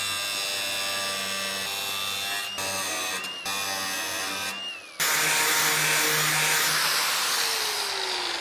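Power tool cutting and grinding stud ends off the metal body of a Karmann Ghia, a steady loud whine that dips and stutters for five seconds, then a harsher, louder grinding roar takes over to the end.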